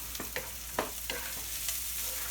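Leftover rice and onions are refried in a pan, giving a quiet, steady sizzle broken by scraping stirs from a utensil.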